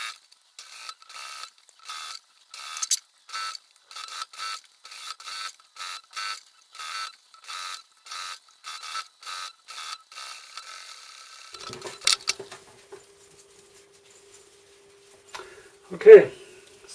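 A sewing machine stitches a softshell vest in short, rapid bursts of mechanical clatter, repeated steadily for about ten seconds and then stopping, followed by a faint hum and a louder clunk near the end.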